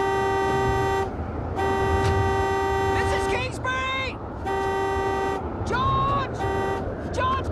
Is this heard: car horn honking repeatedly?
yes